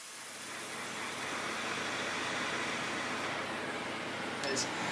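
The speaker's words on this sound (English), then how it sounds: "Extractor fan going on now." An extractor fan running beside hot air desoldering of a port from a circuit board at 450 °C, a steady broad whooshing hiss that holds constant throughout at moderate level.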